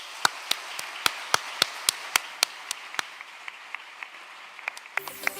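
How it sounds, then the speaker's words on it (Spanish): At a live radio show recording, sparse, evenly spaced claps ring out at first and thin out toward the end, sharp single hand claps rather than a full crowd, with a brief tonal sound at the very end. "os pedimos un buen aplauso para saludar también a los que nos escuchan por la radio"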